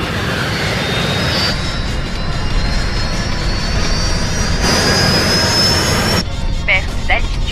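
Jet aircraft losing altitude in a horror film, a loud sustained roar of jet engines with a rising whine and abrupt shifts in intensity.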